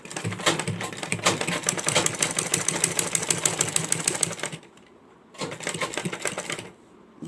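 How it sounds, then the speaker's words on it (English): A sewing machine stitches with a zipper foot in rapid, even bursts of needle clatter, one long run, a pause, then a shorter run, close and clear. "and begin to sew again."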